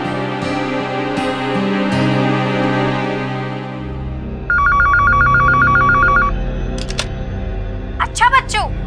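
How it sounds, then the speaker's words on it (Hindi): A landline telephone rings in rapid trilling bursts after a stretch of dramatic background music, the electronic ring loud and close, with short chirps following. "मैं अभी लैंडलाइन पे फोन करके ना उसके अच्छे से खबर लेती हूँ।"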